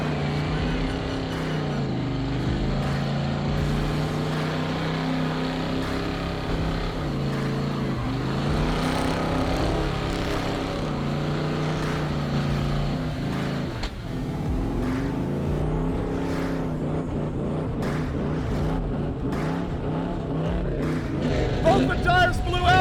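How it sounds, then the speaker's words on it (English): A car at a low-buck car party does a burnout with red, white and blue smoke tires, its engine roaring and revving hard continuously, with swelling and dipping pitch as the tires spin until they blow out and the rims spin inside. "right now Derek's out there burning off some tires"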